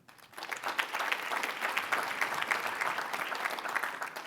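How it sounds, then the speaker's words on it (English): An audience at a small business finance forum applauds, steady clapping that rises quickly and holds at moderate volume, slightly distant in a large room. "that's the last round of applause."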